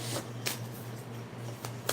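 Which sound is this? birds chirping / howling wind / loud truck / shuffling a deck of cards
shuffling a deck of cards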